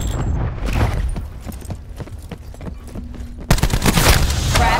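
Cluster grenade explosions in Call of Duty: Black Ops 4, a rapid string of sharp bursts and thuds, followed by a louder, denser rumbling blast near the end.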